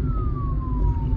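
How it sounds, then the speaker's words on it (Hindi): An ambulance siren wails behind a car on a highway, a single steady tone sliding slowly downward in pitch over a low rumbling road and engine drone, fairly loud and close. "और भाई ओहो एम्बुलेंस लग गई पीछे"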